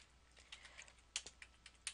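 Short bursts of typing on a computer keyboard, a handful of light, close key clicks at an uneven rhythm with no voices, while someone enters a section name into a web form.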